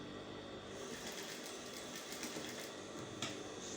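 Continuous whirring and rapid ticking of a sewing machine stitching a zipper onto tulle mesh, quiet and steady with no pauses, and no talking.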